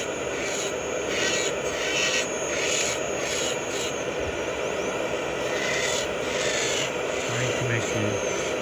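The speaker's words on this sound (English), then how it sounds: "And so I turn, grind it, and take it out the tool." Dental rotary tool grinding a zirconia implant provisional, a continuous high whine with rhythmic rubbing pulses, close and steady, with faint speech in the background.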